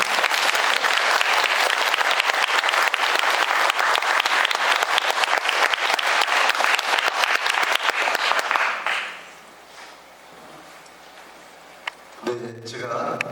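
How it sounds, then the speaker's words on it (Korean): An audience at a prayer lecture claps loudly and steadily for about nine seconds to welcome a priest, then the clapping fades quickly to a quiet room, and a voice begins speaking near the end. "큰 박수로 양승국 스테파노 신부님을 모시겠습니다"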